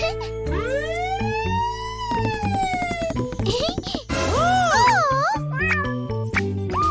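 A cartoon kitty with a sore ear meows repeatedly in drawn-out, rising and falling cries, loud and close, mixed with a musical score and animated voices.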